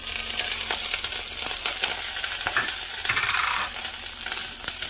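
Dried chilies and Sichuan peppercorns sizzle in smoking-hot rapeseed oil, a steady bright crackling hiss that stays loud and close throughout with scattered pops, no voices.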